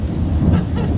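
Thunder from a nearby lightning strike during an Austin thunderstorm, a deep continuous rumble mixed with steady rain, loud and close with no talking.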